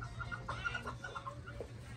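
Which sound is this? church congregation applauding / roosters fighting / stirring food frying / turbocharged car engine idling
roosters fighting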